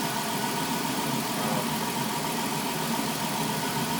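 A 3.3-litre engine in a 2002 Dodge Caravan idles steadily after a cylinder head gasket replacement, a continuous even hum and rumble heard close up with no speech.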